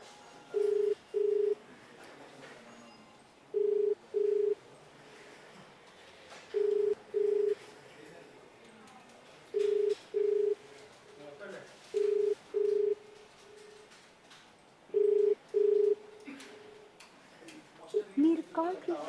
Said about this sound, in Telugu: ఒకసారి డైరెక్టర్ మారుతి గారిది రింగ్ అవుతుంది ఫోను.